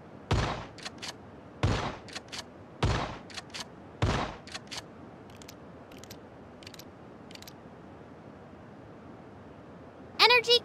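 Four loud, evenly spaced S-1897 pump shotgun blasts in Sausage Man, each followed by a mechanical pump-action clack, then fainter reload clicks and a bright metallic jingle at the end.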